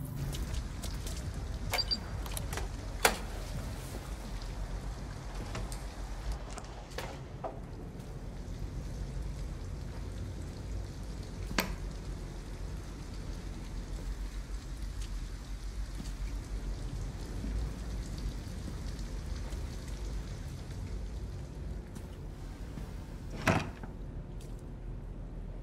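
Steady rain falls in Detroit: Become Human, a continuous wash of drops broken by a few sharp louder splashes or knocks, heard alone with no talk.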